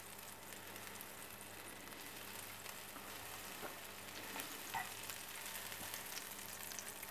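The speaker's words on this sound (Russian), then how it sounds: "Добавляем немножко сливочного масла. Сливочное масло должно растопиться полностью." Butter melts and sizzles in a frying pan, the first step of a caramelized banana dessert: a soft, steady crackling hiss that runs unbroken and quiet, with no talking.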